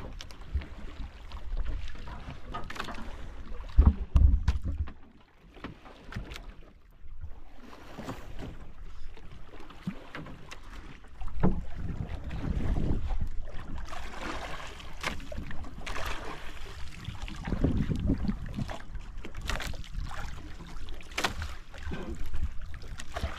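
A small outrigger bangka crosses open water, with steady broadband rush of wind and waves against the hull and occasional knocks and splashes, loud and close throughout with no clear talk.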